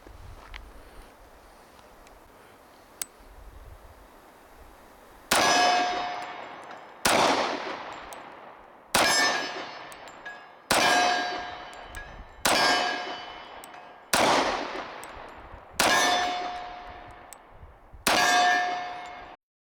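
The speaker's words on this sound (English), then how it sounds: "Let's go single-handed fire." A Wilson Combat X-TAC Elite Commander 1911 pistol fired one-handed at steel targets: seven evenly spaced, sharp reports about two seconds apart, each followed by a bright metallic ring that fades, with quiet between them.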